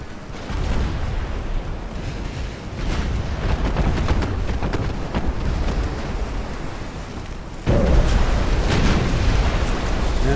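Torpedoes strike a warship in Ultimate Admiral: Dreadnoughts, heard as continuous rumbling explosions and booms that swell loudly near the end, with no talking.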